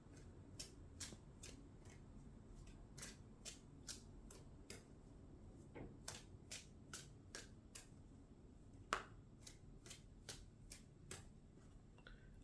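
Tarot cards being shuffled, a long run of crisp, close riffling snaps coming in quick irregular bursts, quiet and alone with no talking.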